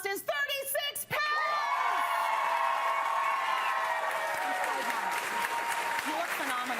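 A studio audience bursts into applause with scattered cheers and whoops after a brief line of speech, the clapping swelling and holding steady as a full crowd roar to the end.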